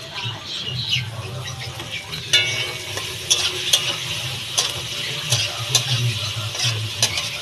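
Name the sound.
onions frying in a pan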